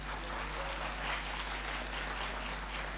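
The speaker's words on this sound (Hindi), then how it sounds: "आप मेरी तरफ से बजाना चाहें तो तालियां बजा सकते हैं" Audience at a mehfil gathering applauding, a dense, even wash of clapping from many hands that holds steady for the full few seconds without speech over it.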